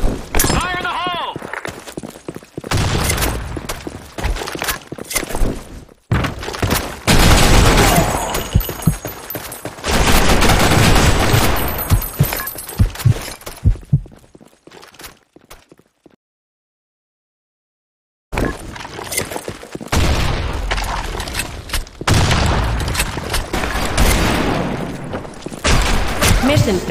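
Dense gunfire and heavy bursts crash through a Sand Storm level of a video game, loud and close. The firing stops for a few seconds of silence, then resumes. Shouted voices are heard over the shooting.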